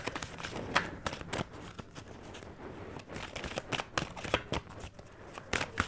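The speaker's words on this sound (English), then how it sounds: "let's pull two fairy cards." Tarot-style fairy cards are riffled and shuffled in quick crisp bursts, soft and close, with short pauses between rounds of shuffling.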